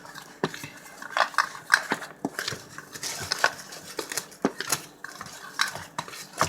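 A spoon or utensil works buttermilk into biscuit dough ingredients in a bowl, making uneven clinks and scraping taps in a quick, irregular rhythm, close and fairly quiet.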